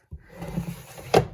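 Bottom drawer of a craft room cabinet sliding open with a low rumbling scrape, ending in a sharper knock as it stops, close by with no talk.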